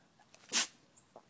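A single sharp sneeze from one person, close and sudden, standing out against quiet surroundings with only faint small noises before and after.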